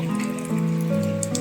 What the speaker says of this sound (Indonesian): Ini mulai hujan.